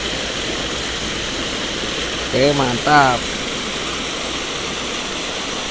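River water rushes steadily beneath a bridge culvert, a loud continuous roar that persists behind a brief spoken phrase from a man nearby.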